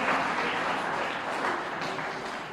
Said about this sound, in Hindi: तालियां वालियां बजा दो